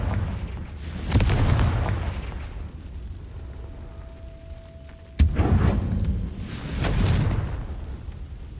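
Confringo blasting spell explosions in Hogwarts Legacy: several deep booming blasts with rumbling tails, one sharp close crack midway, loud and alone.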